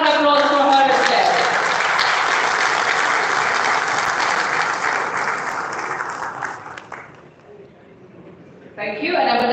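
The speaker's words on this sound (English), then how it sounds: "a round of applause for her as well." A conference audience bursts into loud, sustained applause as a voice trails off, the clapping fading after about seven seconds into near quiet before a voice returns.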